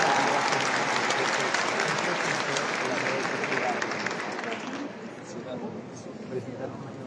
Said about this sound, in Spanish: Entonces lo recibimos con un fuerte aplauso.